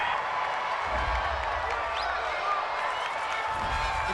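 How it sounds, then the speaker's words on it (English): A home football crowd at an Eagles–Bears game cheers after a pass interference flag, a broad steady roar of many voices filling the stadium without letup, with faint commentary-like talk beneath it. "This home crowd, they're happy with that call."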